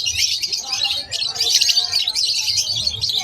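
Pet birds at the Malabon pet market chirp and tweet in a dense, busy chorus, loud and close, with sharp high calls overlapping continuously.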